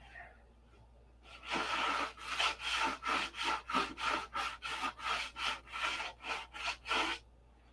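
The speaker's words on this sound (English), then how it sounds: "it'll take hours to sand this to where I'm happy with it" Hand sanding on a wooden P-47 model gives a steady run of about fifteen rhythmic, close scratchy strokes, each a short rasping burst with small gaps, after a quiet start.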